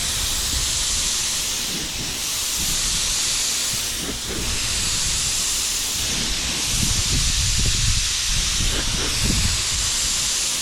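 A paint spray gun lays a second coat on a Honda Civic, producing a continuous broad hiss in overlapping passes, with low thumping movement noises beneath and no talk.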